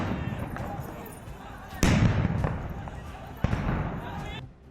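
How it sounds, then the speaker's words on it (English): Sharp gunshot cracks echo across Baghdad's high security zone during unrest, two loud reports standing out over a background of crowd noise and rumble, with voices audible underneath. "Gunfire echoing in the high security zone"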